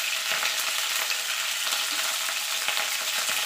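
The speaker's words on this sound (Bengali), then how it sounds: "কপিটাকেও লাল লাল করে আমি ভেজে নেব।" Cauliflower frying in oil until browned, a dense close hiss of sizzling with small pops and occasional stirring scrapes, with no voices.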